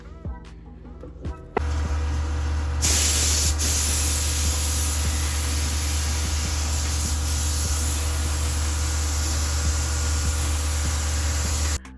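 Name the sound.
Harbor Freight Black Widow paint spray gun spraying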